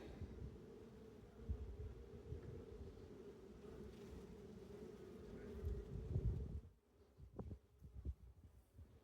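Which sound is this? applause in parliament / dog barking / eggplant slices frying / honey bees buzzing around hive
honey bees buzzing around hive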